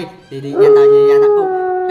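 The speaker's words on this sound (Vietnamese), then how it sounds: "Hình như mình nghe tiếng có tiếng chó sói hú hay sao á." A wolf in the Minecraft video game lets out a long, steady howl that rises and holds for over a second, heard under a voice talking in Vietnamese.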